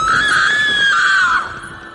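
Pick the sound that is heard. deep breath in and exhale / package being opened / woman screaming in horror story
woman screaming in horror story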